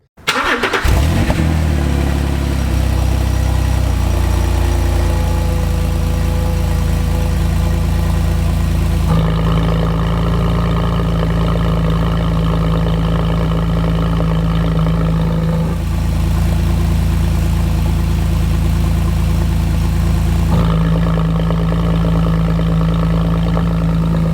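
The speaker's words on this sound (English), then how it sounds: "Let's go ahead and start the car and check out our new exhaust system." A Porsche 997 engine cranks and catches, then settles into a deep, steady idle through a valved exhaust, a throaty rumble whose tone shifts every few seconds.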